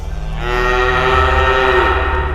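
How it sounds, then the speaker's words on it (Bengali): Cows low loudly inside a cowshed, one drawn-out, wavering moo rising and falling over a steady low rumble, close and sustained for about two seconds. "গরুগুলো এমনভাবে হামলাচ্ছে"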